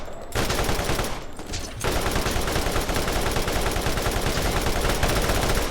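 Continuous rapid gunfire from robot enemies in the shooter game Borderlands, dense overlapping shots rattling on loudly with a brief lull near the start and another shortly after, no voices.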